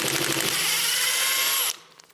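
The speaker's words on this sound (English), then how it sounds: "some really short bolts and lowest setting on my impact wrench" Impact wrench on its lowest setting zipping out short bolts from the interior of a totaled Audi TT Mk3, one loud, sustained high-pitched whirring burst for under two seconds before cutting off abruptly.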